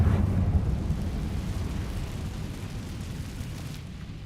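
A Confringo fire spell bursts in Hogwarts Legacy, a heavy low rumbling blast at the start that slowly decays into a long, fading roar, with no talking.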